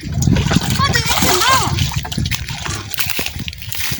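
Children splash and play in water outdoors, with sloshing and splattering throughout, overlapped by loud, busy voices and a child's high calls.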